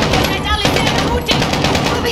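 Rapid automatic gunfire in Call of Duty: Modern Warfare (2019) rattles in dense bursts, loud and close, with the shots running together into a continuous clatter.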